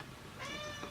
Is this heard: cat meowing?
yes